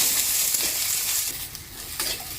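Bottle gourd, pumpkin, eggplant and bean pieces for a spinach ghonto fry in a pan while being stirred, a loud close sizzle with scraping, shuffling strokes of the spoon, and no talking.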